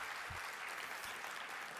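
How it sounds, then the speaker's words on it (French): Applause at a political congress opening speech, heard faint and distant as a steady wash of clapping from a large audience. "qu'on lui fasse un tonnerre d'applaudissements à distance"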